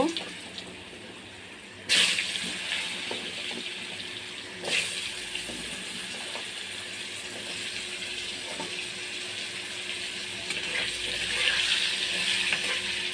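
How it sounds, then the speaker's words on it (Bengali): Potatoes frying in hot oil in a kadai give a steady, moderately loud crackling sizzle. A couple of sharp clinks or scrapes break through it, and the sizzle swells brighter near the end. "এবার কড়ার মধ্যে ওই তেলের মধ্যে আলুগুলোকে সুন্দরভাবে ভেজে নেব"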